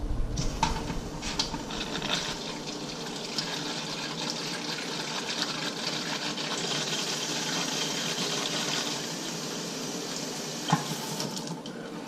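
Water runs steadily through a bottle washer fitted with a racking cane while bottling a homebrewed orange vanilla cream ale, a continuous splashing hiss with a few clunks near the start and a sharp knock near the end.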